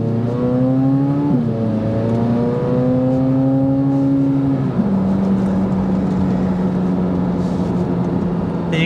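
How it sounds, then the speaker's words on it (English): Engine and exhaust note of a 2024 Chevrolet Corvette Z06 under hard acceleration, a loud, steady droning roar that climbs in pitch and then drops sharply twice as the gears change, heard from inside the car. "The exhaust note is a symphony to my ear"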